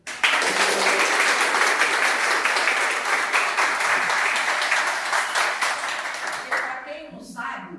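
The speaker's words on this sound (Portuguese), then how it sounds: "primeiro de tudo eu quero mesmo uma salva de palmas para a Regina." A crowd at a regional authors' gathering applauds warmly, steady clapping that fades out near the end.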